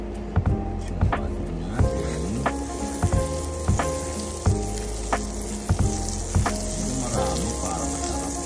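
Omelette ingredients sautéing in animal-fat butter in a pan, a steady close sizzle and frying crackle with clinking stirring strokes at a regular pace, while a person talks over it.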